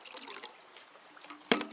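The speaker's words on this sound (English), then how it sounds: "The trick is to pour the water in first." Water is poured into a glass while mixing a whiskey drink with Crystal Light, a brief close trickle and splash, faint, with a sharper clink near the end.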